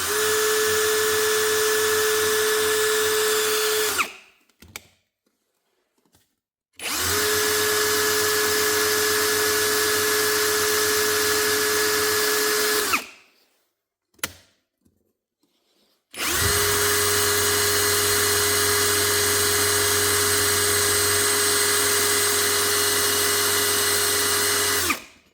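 A Parkside Performance 12V cordless drill, model PPBSSA 12 A1, runs in three long, steady bursts with a high motor whine, separated by brief silent pauses. It is close and loud, with no talking.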